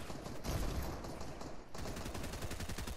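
Gunfire in a battlefield-style shooter game: dense, rapid bursts of shots rolling continuously over three seconds, with a brief lull partway before the firing resumes just as thick.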